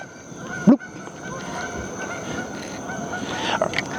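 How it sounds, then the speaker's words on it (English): Geese on a lake at evening during bass fishing, one loud nearby honk early on, then fainter scattered calls over steady background ambience. "Man, I thought we were done with the geese for the night."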